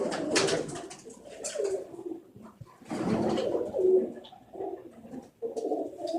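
Several pigeons cooing in soft, low, rolling bursts, close by, with short pauses between calls and no talking.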